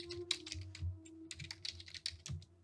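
Quick, light keystrokes on a computer keyboard as a PowerShell command is typed, a soft close run of clicks lasting a few seconds, with no voice.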